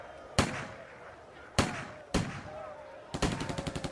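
Three sharp gunshots ring out at irregular intervals, followed by a rapid burst of automatic fire, loud and close in an English-dubbed historical drama about an armed confrontation.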